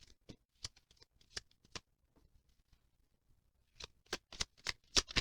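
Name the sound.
shuffling angel guidance cards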